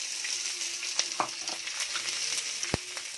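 Small onions sauté in a pan for a chutney, with a continuous bright sizzle and scattered spatula taps, one sharp knock near the end, close and moderately loud.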